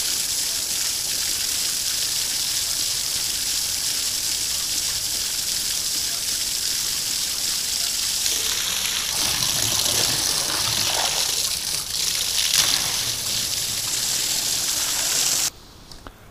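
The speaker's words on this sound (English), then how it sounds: "Dougie, you like drinking water out of the hose." Water gushes steadily from a garden hose in a backyard where a dog drinks from it, a continuous loud rushing that cuts off abruptly near the end.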